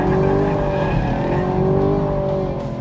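A Chevrolet Camaro SS 1LE corners hard, its engine droning loudly and steadily close up while the tires squeal through the turn.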